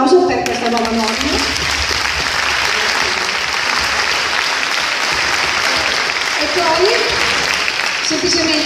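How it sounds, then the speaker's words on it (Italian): Audience applause at a ceremony for the Magenta fire brigade's new aerial ladder truck, steady, loud and sustained clapping from a large crowd throughout, with a voice briefly heard at the start and end. "un applauso per questa nuova norma"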